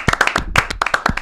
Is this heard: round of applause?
yes